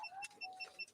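A police pursuit device emits faint, regular electronic beeps, short high tones repeating several times a second at a low level, with brief rustling between them.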